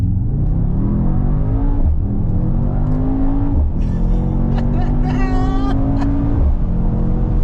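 A car launches hard, its engine note climbing steeply through rapid gear changes, loud and close from inside the cabin, with a brief voice exclaiming partway through.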